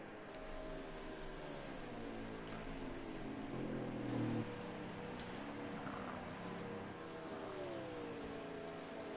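A race car at a Kansas track drones past with a sustained engine note that swells and shifts in pitch, the broad roar steady throughout and peaking briefly midway, with no talk.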